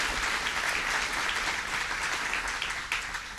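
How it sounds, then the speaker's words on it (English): Steady applause from an audience at a governor's announcement in Niagara Falls, a dense even patter of many hands lasting the whole stretch and fading slightly at the end. "let's give them a round of applause"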